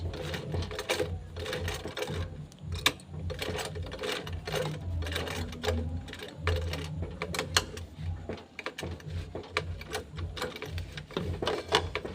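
A sewing machine back stitches on the Olivia bag, a near continuous run of rapid, rattling stitches with brief slowdowns and light clicks, close and moderate in level, with no talking.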